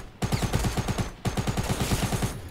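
Two rapid bursts of automatic gunfire from the video game H1Z1, each a run of sharp evenly spaced shots, heard clearly with no talk over them.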